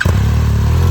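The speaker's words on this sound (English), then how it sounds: "That's a motorcycle." A motorcycle engine rumbles loudly and close by in a short, steady low drone, with a brief rise at the start.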